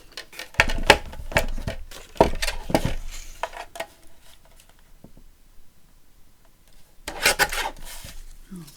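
Paper border being trimmed on a folio journal, with a cluster of crisp rasping cuts and scrapes at close range, a quiet pause, then another short burst of cutting.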